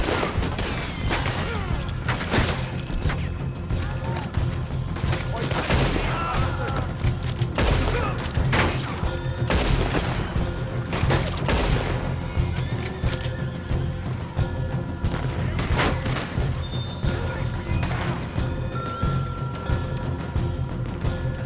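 Gunfight in Red Dead Redemption 2, with rapid, dense volleys of rifle and pistol shots, some close and sharp and others farther off, cracking steadily throughout alongside occasional shouted voices.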